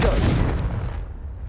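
A Confringo blasting spell bursts in Hogwarts Legacy, a loud, close boom with a heavy low rumble that decays over about a second into a fading tail.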